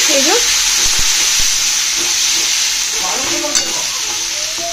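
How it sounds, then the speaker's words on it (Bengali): Ground pepper, ginger and garlic paste fries in a pan, a loud steady sizzle with hiss and a few stirring knocks and scrapes, close by in a small home kitchen. "এখানে আমি এবার মশলাটা কষাচ্ছি"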